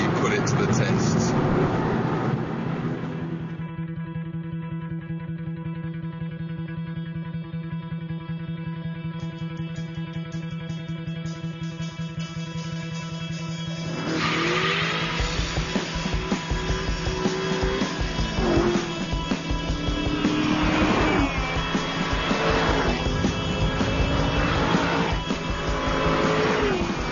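An Aston Martin Vantage V8 is driven hard on a racetrack, its engine holding a steady droning note before surging into loud, sweeping revs that rise and fall repeatedly through gear changes, close and continuous.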